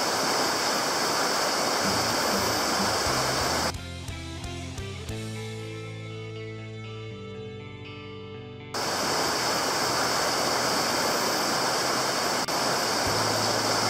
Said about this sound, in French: cette rivière est la pire que j'ai eu à traverser, je crois. Et il y a vachement d'eau, il y a vachement de courant.